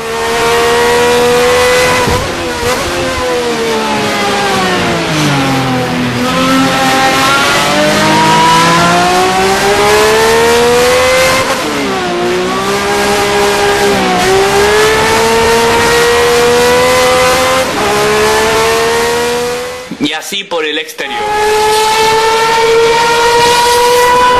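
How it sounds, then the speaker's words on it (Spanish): A Super TC 2000 touring race car engine heard from inside the cockpit, loud and continuous, its pitch climbing through gear after gear with brief drops at each upshift, alone throughout. "vamos a mostrarles el Super TC 2000 que se escucha así por el interior"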